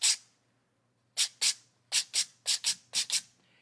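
Short scratchy rubbing strokes of sandpaper on painted furniture, often in quick pairs, sound close by with pauses between them, worked back and forth over the surface.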